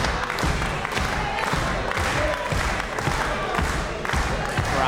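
Wrestling arena crowd roaring and cheering steadily throughout, a dense continuous wash of voices and applause with rhythmic surges, loud and close, as a babyface wrestler rallies the fans during a title match.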